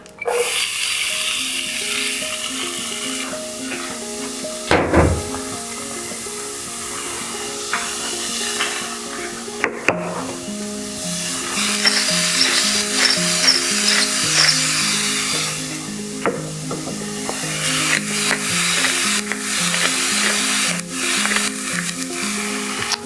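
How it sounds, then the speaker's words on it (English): Onions fry in a pan with a steady, close sizzle lasting throughout, broken by occasional clanks and stirring scrapes and some background music tones. "I'm just going to cook the onions until they start to soften a little bit"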